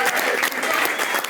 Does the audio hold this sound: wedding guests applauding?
yes